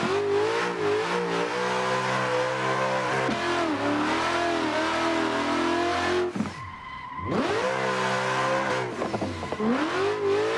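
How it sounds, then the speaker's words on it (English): A drifting car in the Assetto Corsa racing game, on a frozen lake track, holds a loud, sustained engine rev whose pitch rises and falls. The engine dips briefly midway, then revs up again, with tire squeal. "Look how long that drift was."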